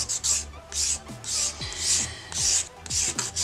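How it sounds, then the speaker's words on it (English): A nail buffer rubs back and forth over a layer set with nail accessories, giving about eight short, soft rasping strokes in a steady rhythm, close and fairly quiet. "this is going to make it nice and smooth. And I'm just giving it a little buff."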